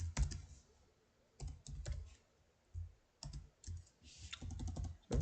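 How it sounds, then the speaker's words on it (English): Keys clatter on a computer keyboard while someone enters HTML, coming in short quick bursts of clicks separated by brief pauses. The typing sounds close but quiet. "So you can just continue to type"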